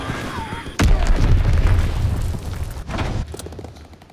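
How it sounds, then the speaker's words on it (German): Heavy bomb blasts and booming battlefield gunfire in the Call of Duty WWII video game, one big explosion kicking in early and rumbling on, a second burst near the end, loud and close. "Feindliche Bombe im Anflug."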